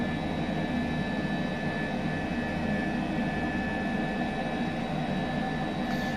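An H135 helicopter in Microsoft Flight Simulator gives a steady, loud turbine engine whine with a constant high tone and droning rumble, unbroken throughout.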